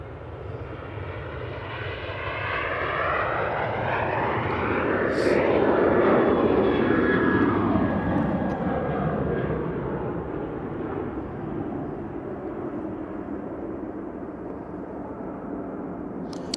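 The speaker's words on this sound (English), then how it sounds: "So, Ryanair to Naples now." A Ryanair airliner departs towards Naples, its jet roar swelling over several seconds with a sweeping Doppler shift as it passes, then holding as a broad, steady rumble fading slowly into the distance.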